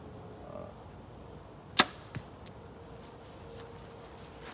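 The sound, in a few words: arrow released from a bow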